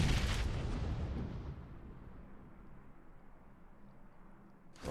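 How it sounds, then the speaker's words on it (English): A frag grenade blast in a competitive shooter tournament match: a loud, broad boom at the start that rumbles and slowly fades, with a fresh burst of noise at the very end. "Saxy's going to go for the frag grenade"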